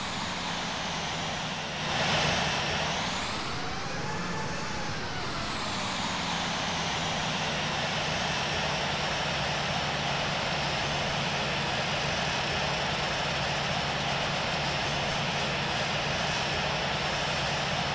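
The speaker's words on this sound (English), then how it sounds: "LaGuardia Unicom, United 1640 is taking off runway 4" A United airliner taking off from runway 4 at LaGuardia gives a loud, constant jet engine roar with a rising and falling whine near the start, then a steady drone that holds for the rest of the run.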